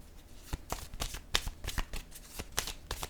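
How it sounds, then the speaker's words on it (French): Playing cards handled and drawn from a deck: a run of quick, crisp flicks and riffling snaps, close and fairly quiet, arriving in irregular bursts with no talk. "Je vais piger une autre carte."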